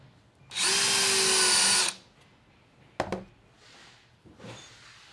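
A drill-driven hole cutter bores through nine stacked layers of fabric on a black cutting block, a loud steady whine for over a second, followed by a sharp clack and softer handling noises.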